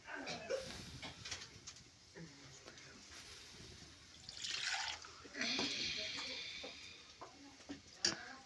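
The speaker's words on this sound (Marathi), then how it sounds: "आई थोडं वाढवत आहे पाणी" Water is poured into a dried-fish curry in a soft rushing burst midway, with light clinks and kitchen clatter around it and a voice speaking at times.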